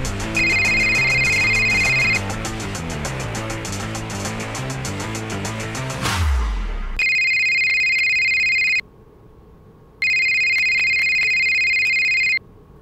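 A phone ringtone in a Kannada short film rings out in loud, repeated electronic tone bursts with short gaps, following a stretch of music, with no talk over it.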